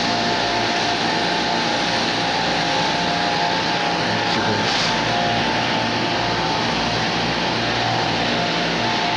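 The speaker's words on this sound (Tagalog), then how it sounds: "Ito naman yung tinatawag na compressor." An air compressor runs continuously in an industrial setting, a loud, dense, unbroken mechanical drone that fills the whole stretch without pause.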